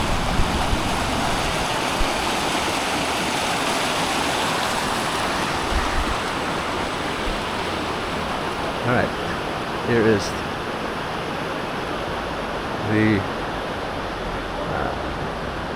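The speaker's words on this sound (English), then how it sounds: "here's the creek again" A creek flowing through the town of Buffalo, Wyoming, a steady broadband rush of moving water throughout, with a few brief spoken words rising over it.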